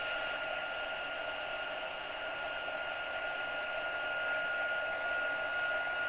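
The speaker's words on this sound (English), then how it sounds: "The trick is to keep your heat gun moving." A heat gun blows steadily at close range, a continuous loud whooshing hum with a faint tonal whine that holds unchanged throughout.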